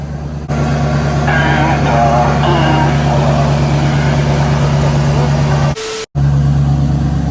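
A truck engine with loud exhaust rumbles steadily up close, revving and roaring for several seconds, then cuts out abruptly before starting up again.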